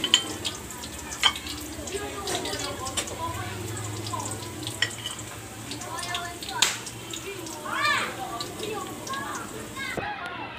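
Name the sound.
food frying in a pan until golden brown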